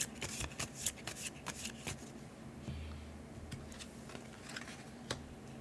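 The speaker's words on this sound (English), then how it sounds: "3 cards, and then we'll shuffle." Cards from the Fort board game being shuffled close up, a quick run of crisp riffling snaps and flicks that settle into softer rustling handling.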